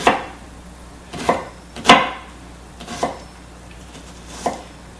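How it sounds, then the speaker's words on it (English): Onion being chopped with a knife on a cutting board for a tomato corn salad: five separate firm chops, spaced irregularly, close and clear against a quiet background. "I'm not going to put a whole lot of onion in there."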